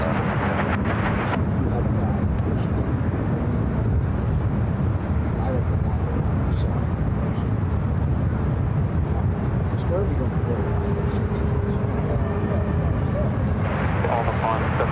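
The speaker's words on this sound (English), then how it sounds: "This 777 going to be taken off at 28 left." A Boeing 777 jet takes off on runway 28 Left at SFO, a loud, sustained roar with a rumbling low end that holds steady, heard from a distance with radio chatter over it.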